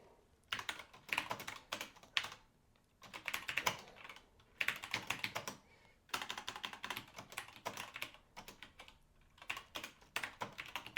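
Fast bursts of typing on an early microcomputer keyboard connected to a glass teletype terminal as a short program is entered, close and fairly quiet, with brief pauses between runs of keystrokes.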